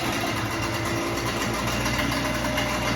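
A 15 hp outboard boat motor idles steadily up close, a loud even mechanical rumble with a rapid pulsing beat and no talking.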